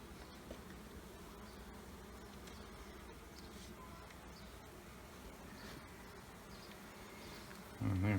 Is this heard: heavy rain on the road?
no